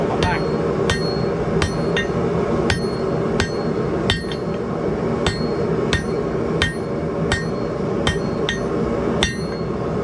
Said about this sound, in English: Choking up, moving around on the hammer.